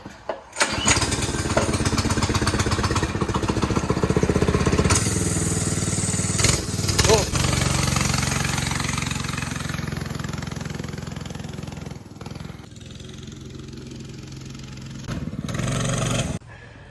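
Youth ATV engine running after a new clutch install, a loud, buzzy small-engine drone that starts up and holds steadily for over fifteen seconds, with brief blips of revving and a slight drop near the end.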